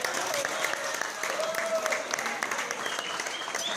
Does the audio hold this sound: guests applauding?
yes